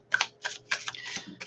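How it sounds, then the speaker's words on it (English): A tarot deck printed on Llewellyn cardstock is shuffled in several quick, crisp papery bursts, close and fairly loud, with brief pauses between them and no talking. "So this deck is shuffling really well, but it's Llewellyn cardstock."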